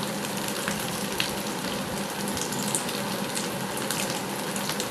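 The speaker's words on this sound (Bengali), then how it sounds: "এইভাবে সবগুলোকে লাল লাল করে ভেজে নিতে হবে।" Potato-coconut dhoka pieces fry steadily in hot oil, a continuous close hiss and crackle running without a break from start to finish.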